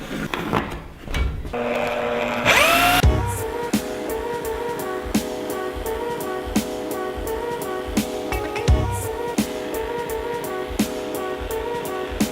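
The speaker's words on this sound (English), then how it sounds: "I'll show you how to cut 2x4s with a jigsaw." A jigsaw cuts through 2x4 lumber while a ramp is being built. A steady, buzzing motor whine runs under rapid, rattling blade strokes for several seconds, close and moderately loud.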